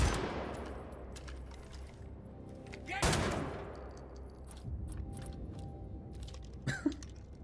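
Gunfire in Wolfenstein: The New Order, with sharp reverberant shots and scattered bursts, one loud crack standing out midway, amid a busy combat soundscape.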